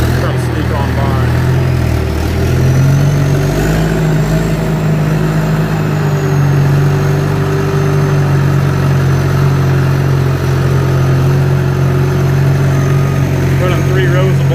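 Skid steer engine running steadily under load at a muddy dirt-work site, a loud continuous diesel drone with a shifting pitch as the tracks spin in greasy mud.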